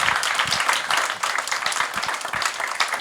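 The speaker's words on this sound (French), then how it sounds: "On peut l'applaudir." An audience at a women-in-logistics-and-industry event gives a steady burst of applause, many hands clapping at once, fairly close and loud throughout.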